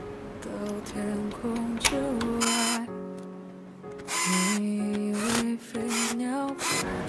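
Screws are driven to fit a 360 radiator into a PC case, heard as repeated close whirring bursts of a small powered driver, each rising in pitch, separated by short pauses and clicks.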